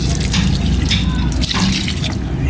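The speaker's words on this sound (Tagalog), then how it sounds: "idilig na natin" Water poured onto moringa plants to irrigate them, a steady close splashing and gushing stream running continuously without pause.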